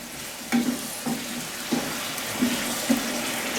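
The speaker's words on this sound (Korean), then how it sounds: "그래서 먼저 한번 좀 저어보고" Thick mapo tofu sauce, thickened with starch, is stirred in a pan, giving soft repeated scraping and bubbling strokes about every half second over a quiet, steady sizzle.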